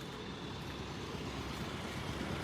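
A car pulling up nearby, its low engine rumble and road noise steady and broad throughout, heard from inside another vehicle with no voices.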